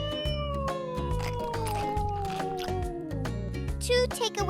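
A cartoon cat meows in a drawn-out, sliding cry, repeated across a busy musical background with bright tones and a bouncing beat in a children's educational show.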